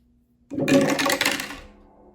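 A game die is rolled on a surface, making a sudden clattering rattle that lasts about a second and then fades out.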